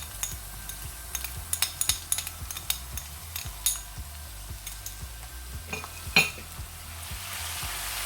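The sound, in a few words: garlic and ginger frying in pan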